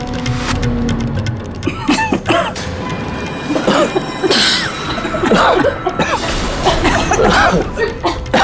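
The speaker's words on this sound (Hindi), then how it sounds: "सब लोग अचानक खांसने क्यों लगे?" Several people break into sudden coughing fits at a meal, with repeated close, loud bursts and some chuckle-like sounds spread across the scene, mixed with brief background voices.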